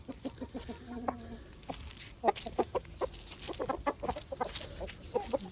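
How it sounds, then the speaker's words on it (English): A young Jersey Giant rooster clucks and mutters near the mic in short, irregular bursts, with other chickens scratching and clucking around him in a quiet yard. "he's turning into a beautiful rooster. He'll definitely be part of our Jersey Giant breeding program."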